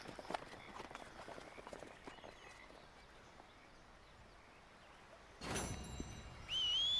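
Faint horse hooves clip-clopping on the ground in the video game Red Dead Redemption 2, soft and distant over quiet ambience, ending with a brief louder rush and a high tone.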